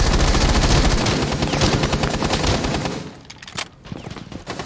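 Rapid automatic gunfire in a Rainbow Six Siege tournament match, loud, dense bursts for about three seconds, then scattered single shots and quieter game sounds.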